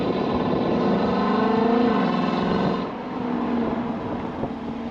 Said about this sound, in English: how it sounds right now is pretty impressive, especially being a V8, it's very gutsy.